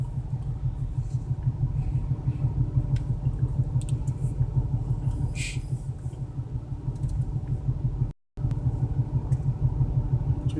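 A BMW 335i with a fueling fault idles roughly, a low, pulsing rumble with an uneven, lumpy rhythm heard up close, broken by a brief cutout near the end.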